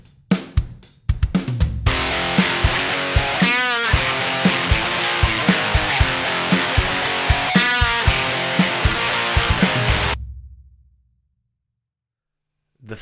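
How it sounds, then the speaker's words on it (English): Distorted electric guitar power chords from the breakdown, strummed loud and close in a steady driving rhythm with a couple of quick slides, then cut off into silence. "The final part of the song that we have to learn is the breakdown,"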